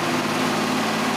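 A neighbour's tractor strains to pull a rural school bus out of the mud on a dirt road near Jataí, Brazil. Its engine gives a steady, loud, rough drone throughout.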